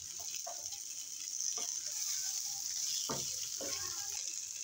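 A pan sizzles softly as already-fried fish is added while a bean mash is made, with a steady faint hiss under several brief clinks and stirring knocks.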